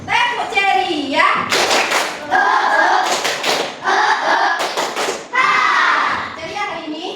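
Primary-school children in a classroom perform a rhythmic cheer clap, bursts of crisp group claps punctuating their chanting voices, loud and near.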